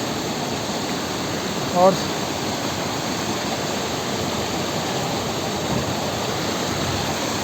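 A roaring mountain waterfall along the Gangotri-Gaumukh trek, its swollen, muddy flow producing a steady, loud broadband rush throughout, with a short spoken word briefly heard over it.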